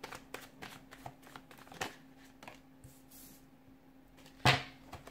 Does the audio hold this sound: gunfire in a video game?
no